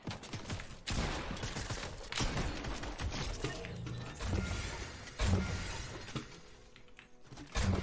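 Rapid bursts of Fortnite gunfire and shattering crashes, loud and close, with several sharp impacts over a busy, continuous battle din.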